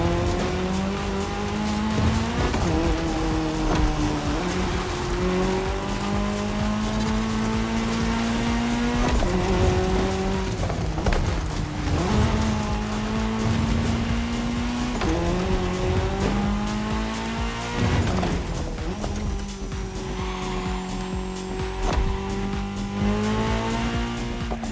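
Race cars driving on tarmac during a cross-terrain race mixing racing disciplines, engines droning and shifting in pitch as they pass, with tire squeals and steady revving throughout, fairly loud and close.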